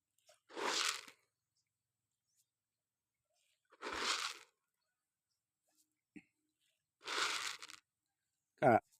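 Freshwater fish in a farm pond taking feed at the surface: three separate splashy bursts spaced a few seconds apart, quiet and fairly close, followed by a short sharp sound at the end.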